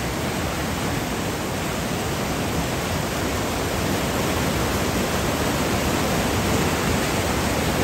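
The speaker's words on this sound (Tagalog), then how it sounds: "Lakas ng agos oh." A strong river current rushes over a large dam in Pampanga, making a dense, constant roar of turbulent water that stays loud and unbroken throughout.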